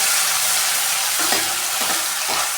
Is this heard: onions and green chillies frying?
yes